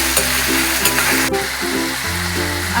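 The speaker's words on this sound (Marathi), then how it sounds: "टोमॅटो पण चांगला तेलामध्ये खड्या मसाल्यामध्ये कांदा आणि टोमॅटो चांगलं परतून घेऊया" Onion and tomato sauté in oil with whole spices, giving a close, continuous hissing sizzle with occasional soft stirring scrapes and one sharp clatter partway through.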